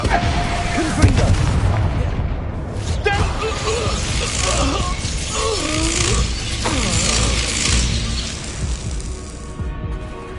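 A Confringo spell blast in Hogwarts Legacy, a fiery burst among other spell effects and clattering mechanisms, loud and dense against a steady backdrop of game ambience.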